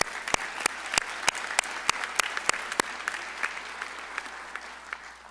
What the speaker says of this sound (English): Go ahead, give yourselves one more round of applause.